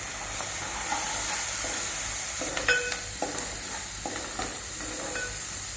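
Tomato pieces cook with salt and turmeric in a pan, giving a steady, moderately loud sizzle and hiss with a few scraping stirs and light clinks scattered throughout.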